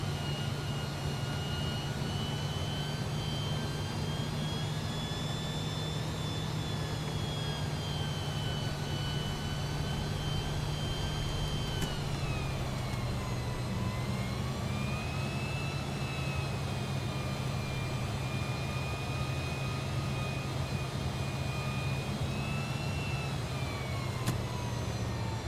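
Fokker F28 twin jet engines in Microsoft Flight Simulator hold a steady, loud whine and low roar, with tonal pitches sliding down and back up as power shifts, continuous throughout with no speech.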